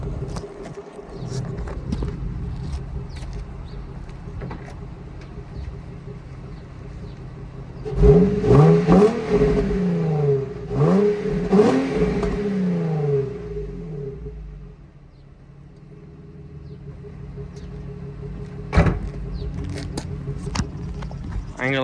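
An Infiniti G35 fitted with a big aftermarket intake idles steadily, then revs several times in a cluster of rising and falling throttle blips before settling back to a low, rumbling idle.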